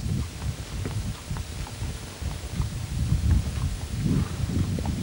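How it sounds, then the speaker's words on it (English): Hooves of a horse clip-clop along streets of Fremantle, Western Australia, in an uneven walking beat, moderately close and mixed with low rumbling and wind-like noise. "Horse feet effects."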